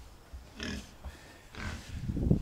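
A 59-day-old piglet grunts nearby in a few short, rough bursts, ending in a louder, lower snort.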